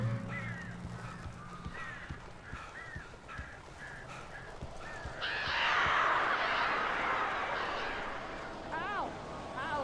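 Crows caw in the Alan Wake video game, a run of short harsh calls repeating through the first half and again near the end, set against busy game ambience with voices.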